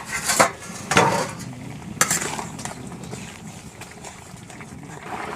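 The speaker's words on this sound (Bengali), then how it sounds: "ঢাকাটা খুলছি।" A metal lid lifted off a cooking pot over a wood fire, with a few sharp clanks and scrapes early on, then a softer rattle and low background noise.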